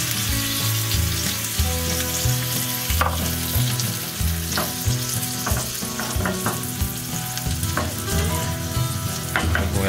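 Eggs fry in a pan over medium heat for a Japanese-style egg pancake, giving a steady, close sizzle with scattered clicks and scrapes of stirring and turning throughout, and no voices.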